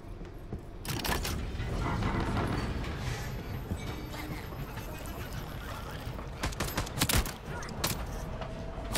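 Bursts of rapid gunfire in the video game Voidtrain's arena mode crackle in quick clusters, with a steady background hum between the volleys and a few sharper isolated shots.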